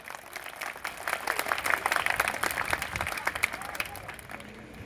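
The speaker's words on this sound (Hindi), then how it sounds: "ताली बजाएंगे आप लोग।" Audience members at a Hindu gathering in Sadarpur Colony, Sector 45, Noida, clap together in a crisp, brisk patter that swells and stays lively throughout, with a few voices mixed in.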